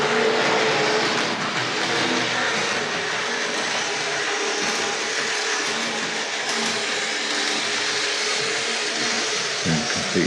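A Tri-ang R.157/R.158 model diesel railcar runs along the track with a continuous whirring motor hum and rattling wheels, steady and fairly loud, ending with a few clicks.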